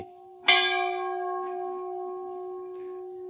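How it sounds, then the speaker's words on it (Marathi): A single temple bell is struck once, ringing out clearly and close, then its metallic tone hangs and slowly decays for several seconds in otherwise quiet surroundings. "तर चला मस्त घंटा विंटा वाजू देव"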